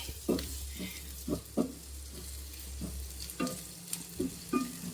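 Onion sautéing in a pan for a toddy-shop style clam fry, sizzling steadily under a low hum while a spatula scrapes and stirs in repeated strokes every half second or so, close and clear.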